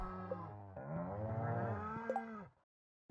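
A cartoonish cow moos in Stardew Valley, a long, wavering call of about two and a half seconds that cuts off into silence, with no voices over it.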